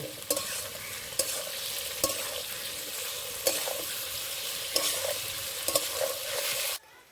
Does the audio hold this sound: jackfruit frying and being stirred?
yes